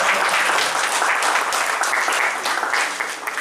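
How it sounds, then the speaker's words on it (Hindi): Sustained, dense audience applause at the Zero Mile ICon Award function fills the hall loud and steady for a few seconds, with no talk over it. "जोरदार तालियों से हम"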